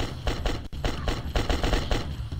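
Rapid gunfire from a semi-automatic gun in the zombie game The Last Stand: Union City, a loud, steady stream of closely spaced shots fired as fast as possible with no pauses.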